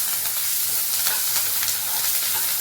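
Chopped onions frying in a pan for a dosa chutney, a steady close sizzle and hiss with no talk over it.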